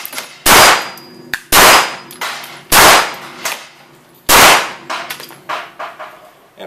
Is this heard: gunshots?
yes